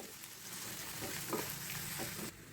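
Onions and chillies hit hot oil with mustard seeds and cumin for a methi curry: a steady, close, dense sizzle with a few stirring scrapes, then a sudden drop in level near the end.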